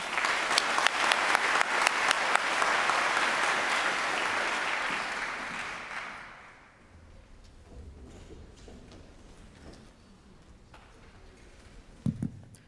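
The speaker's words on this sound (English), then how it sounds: "One more round of applause for STAR." A conference audience at an undergraduate research keynote gives a round of applause that fades out after about six seconds, followed by quiet room noise and a few small knocks.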